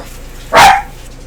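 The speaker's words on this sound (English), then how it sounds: "she did stop barking because I yelled" A single sharp dog bark, loud and close, standing alone against a quiet background.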